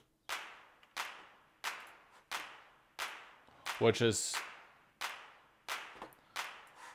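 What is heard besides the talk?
clap sample from Stylus RMX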